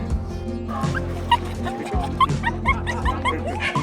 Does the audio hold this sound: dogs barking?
yes